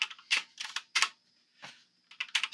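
Typing on a Doomhammer CHOC96 96% mechanical keyboard, close and crisp, with quick bursts of clicky keystrokes broken by short pauses, no talking.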